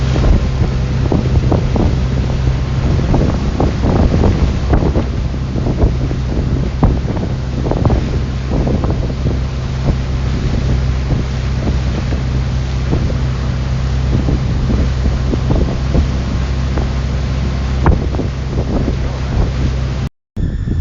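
Regal LS6 Surf Series boat with ballast tanks filled, running on saltwater, its steady engine drone and hull slapping over waves under continuous loud wind buffeting the microphone, with no talk.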